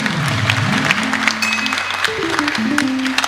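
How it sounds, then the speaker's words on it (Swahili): A church congregation at a Kikuyu Sunday service claps steadily for their former choir teacher, a continuous even patter of applause, with a voice or sustained tones underneath. "Wapi makofi ya mwalimu wetu?"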